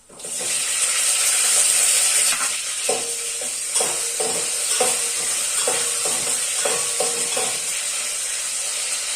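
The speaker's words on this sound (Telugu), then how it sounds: "పచ్చిమిర్చి కూడా మంచిగా ఫ్రై అవ్వాలి." Green chillies and cumin seeds fry in hot oil with a loud, steady sizzle, while a spoon stirs through them in a series of regular scraping strokes. No one speaks.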